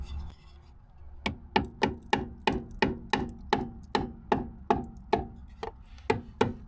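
A hammer strikes the bodywork of a Rover P6 2000 in a steady series of about eighteen sharp, close knocks, evenly spaced after a quiet start.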